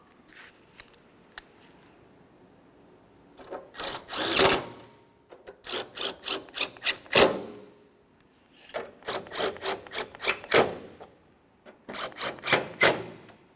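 A power tool snugs up the headlight mounting bracket bolts on a 2005-2010 Chevrolet Cobalt. Four close clusters of quick ratcheting whirs are separated by short pauses.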